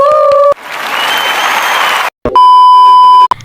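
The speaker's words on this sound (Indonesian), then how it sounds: "Kita beri tepuk tangan untuk ketiga narasumber kita." A studio audience claps in a loud burst of applause for three guests on a talk show, framed by sharp electronic beeps and tones before and after.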